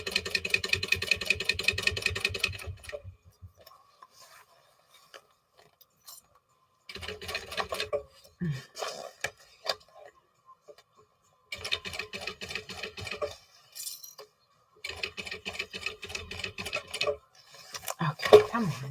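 A sewing machine runs in several fast, steady bursts with quiet pauses between them, stitching a 1/4 inch seam on a large Coupeville bag. Soft handling noises and faint movement fill the gaps.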